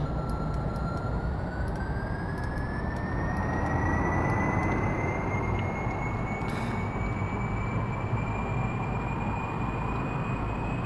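Spaceplane jet engines in Kerbal Space Program spool up, a steady loud roar with a whining tone that slowly rises in pitch across the whole stretch, heard alone without talk.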